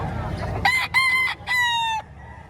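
A rooster crows twice in quick succession at a Batangas gamefowl farm, loud and close, the harmonic calls standing clear over a low background rumble.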